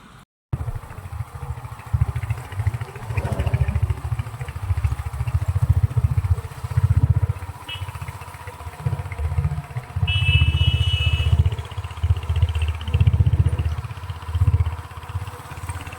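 A vehicle engine descending a hill in second gear, heard close with a loud low drone that rises and falls in surges, plus light mechanical clatter and a brief faint whine partway through.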